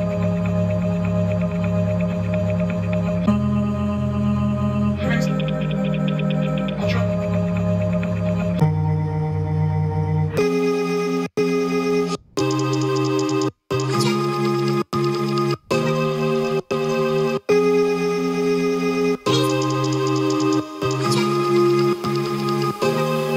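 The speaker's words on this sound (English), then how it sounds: "The last little thing that's going on in the vocals that's kind of being played with is just this little like granular chop from" Granular vocal chop from the Oversampled library, playing as a stuttering, chopped pattern over a mix of chords and beats; the first section sustains smoothly, then gives way to choppy bursts with sharp gaps, loud and upfront with no talking.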